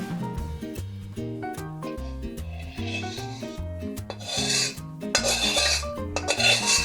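Roasted wheat flour being scraped out of a pan while making methi paak, a steady rasping rub that grows louder and coarser toward the end, partly under background music.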